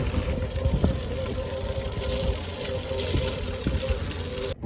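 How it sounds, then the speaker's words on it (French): Water is propelled into a hole in an abandoned Quebec mine, a loud continuous rushing gush that holds steady throughout before cutting off abruptly at the end. "Pourquoi est-ce qu'il propulse de l'eau dans le trou?"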